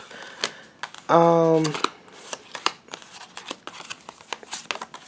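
Tarot cards are shuffled and straightened by hand, with one quick riffle followed by soft taps and slides of the deck, under a person talking.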